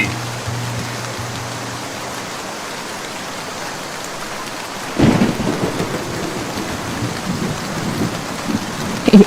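A cartoon rainstorm: steady heavy rain pours throughout, and around midway a loud rumbling thunderclap bursts in before settling back into the downpour.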